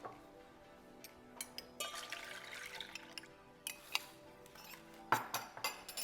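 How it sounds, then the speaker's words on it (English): A utensil stirring egg tart filling of evaporated milk, vanilla and syrup in a bowl, quiet clinks and scrapes against the bowl with soft liquid sloshing, a few sharper taps near the end. "And I just wanna get a little stir."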